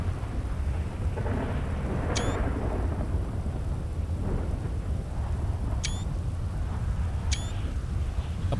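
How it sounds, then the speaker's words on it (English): Steady heavy rain hisses through a thunderstorm in a GTA roleplay game, with a low continuous rumble and sharp brief crackles standing out over the downpour; no one talks. "the lightning strike looked awesome"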